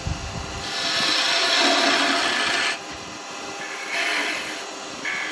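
A spindle gouge cuts a spinning wooden top on a wood lathe, giving a steady rasping scrape in a few sustained passes with short pauses between cuts, close and fairly loud.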